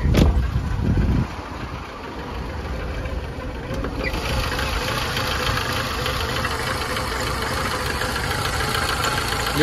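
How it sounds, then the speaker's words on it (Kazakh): A Lada Kalina engine idles roughly at very low revs, with a steady low rumble and vibration after a louder thump at the start, close and continuous, with no talking. "Мотор жағы тірайт етіп дірілдеп тұр."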